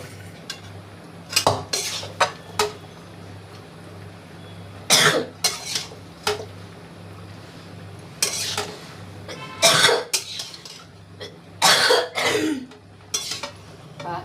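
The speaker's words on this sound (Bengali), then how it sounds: "কি কাশি হয়েছে" Several close coughing fits in a kitchen while a dish is being cooked, sharp hacking bursts spaced irregularly, mixed with faint clinks of utensils against pots.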